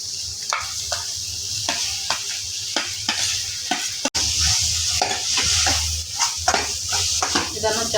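Four boiled potatoes go into a hot frying pan for a masala dosa potato filling and are stirred. Repeated scraping spoon strokes sound close and steady over a soft, continuous sizzle.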